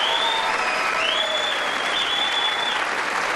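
Sustained crowd applause at a Trump address, a dense steady wash of clapping from a large audience, loud and continuous for the whole stretch with a faint whistle-like tone riding above it.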